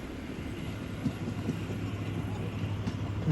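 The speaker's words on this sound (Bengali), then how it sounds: "এই দেখুন ট্রেন কত বড় ট্রেনটা কাঞ্চনজঙ্ঘা এক্সপ্রেস অনেক লম্বা" A long passenger train, the Kanchanjunga Express, rumbles past with a steady low roar and occasional clanks from the wheels, fairly close.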